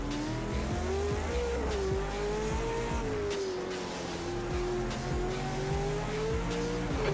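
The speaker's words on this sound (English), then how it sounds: "You're locking your left front, braking for turn 1." A race car engine drones steadily while braking in Project Cars 2 during an LMP sim race, with the front tyre locking up. The engine pitch rises and falls, and bursts of tyre squeal cut through near and loud.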